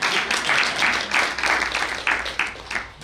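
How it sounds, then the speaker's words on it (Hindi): Pilgrims on the Braj Chaurasi Kos yatra clap together in loud bursts of applause, rising and falling in uneven waves over about three seconds, close and crowded. "एक बार जोरदार ताली बजाइए अपने लिए।"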